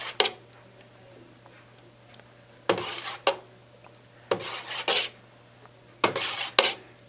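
A large batch of chicken noodle soup stirred in a pot with a utensil, sounding as four separate bursts of scraping and clanking, each a second or so long, with quiet pauses between them and no talking.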